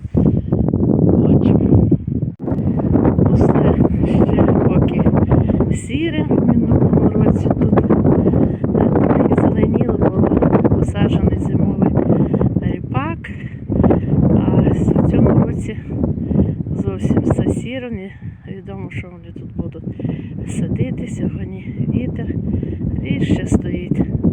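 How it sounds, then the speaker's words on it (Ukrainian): Heavy wind buffeting the microphone with a loud, continuous rumble and roar that barely lets up throughout. "вітер. Ви ж чуєте, що вітер."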